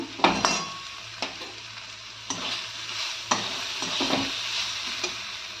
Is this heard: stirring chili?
yes